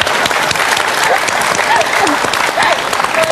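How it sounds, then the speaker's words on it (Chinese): A studio audience at a Beijing television talk show applauds with dense, steady clapping that fills the room, loud and close, and keeps going without a break for several seconds. "您都鼓鼓掌"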